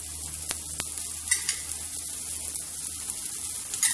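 Oil is poured around a red lentil chilla cooking in a hot pan, raising a steady, close sizzle with a couple of faint clicks and no talking.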